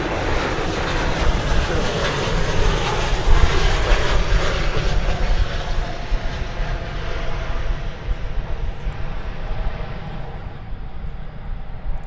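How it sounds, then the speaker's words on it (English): An American Airlines Boeing 737-800 lands at Dallas Fort Worth on arrival from Guadalajara, a loud close jet roar with heavy low rumble that gradually thins and fades as it passes by, no talking. "American Flight 1830 is coming in now from Guadalajara"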